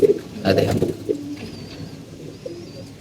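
Pigeons in a loft give a few soft, low coos near the start, with fainter cooing and light rustling afterward in a quiet space.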